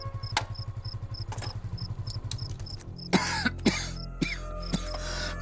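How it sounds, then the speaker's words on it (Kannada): A person coughs in four harsh, close bursts, following a steady rhythmic mechanical chugging in a Kannada film scene. "ನನಗೆ ಕೆಮ್ಮಿದೆ, ಕೆಮ್ಮೌಷಧಿ ತರಲೇಬೇಕು"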